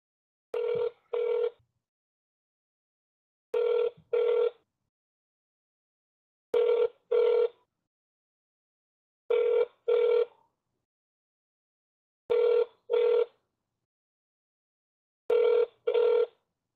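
A telephone rings while a caller waits on hold, six evenly spaced double rings with clean silence between them, loud and close.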